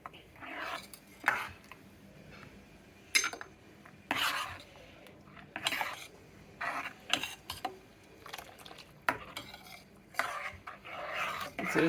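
Pakodi kadhi, a buttermilk curry, is stirred in a pan over a medium flame: repeated scraping and rasping strokes of the spoon against the pan in irregular bursts, fairly close and soft, with no talking.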